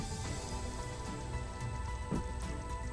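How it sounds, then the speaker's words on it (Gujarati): Steady rain pours down during a thunderstorm in Valsad, a dense, continuous patter of drops on surfaces at an even level throughout, with no voices. "ગાજવીજ સાથે વરસાદ પડ્યો હતો"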